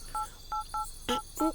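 A phone number being dialed: five short keypad tones in uneven succession, clear and close, with no speech.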